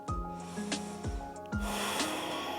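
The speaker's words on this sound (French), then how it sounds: "On est là pour 10 souffles profonds." Deep, slow breaths during a yoga stretching session, several drawn-out inhales and exhales with soft snorting nasal air, close and clear with no talking.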